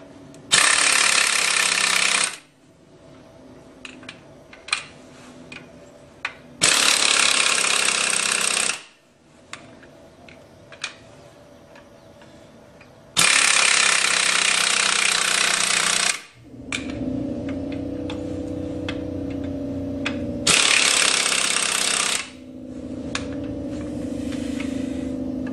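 A strut spring compressor is tightened on a Mazda Protege strut in four loud, sustained, buzzing power-tool bursts. Between them come quieter metallic clanks and workshop noise.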